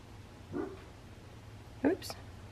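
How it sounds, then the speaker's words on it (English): Small pet dog giving two quick, sharp barks indoors, the second louder and closer, separated by a quiet pause in a calm room. "Oops, there's my doggy."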